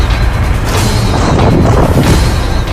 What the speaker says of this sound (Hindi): बड़ा धमाका